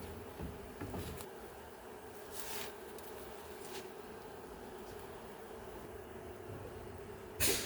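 Honeybees, some of them young, buzz faintly around a heavy hive frame of capped honey, a soft steady hum broken by a few brief handling knocks.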